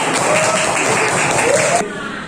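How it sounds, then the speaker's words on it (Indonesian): A burst of group clapping for a presenting group in a teacher-training session, with a voice over it, stopping abruptly partway through. "beri tepuk tangan untuk kelompok Elang"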